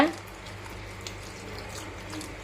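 Water is poured into wheat flour dosa batter mixed with curry leaves, producing a soft, continuous splashing hiss at low volume.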